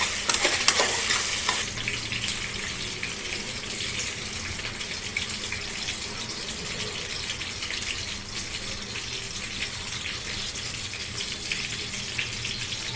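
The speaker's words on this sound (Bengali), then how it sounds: "মশলাটা ভালো মতো কষে গেলে এর মধ্যে গরম জলটা ঢেলে দেবো" Hot water poured into a spice paste for aloo dum hits the pan with a loud hissing burst, then settles into a steady bubbling sizzle, with no talking.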